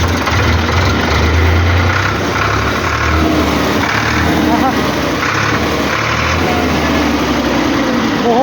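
A Farmtrac 60 tractor engine runs loud and close in a steady diesel throb with slight rises in revs, continuous for over eight seconds, while people talk faintly in the background.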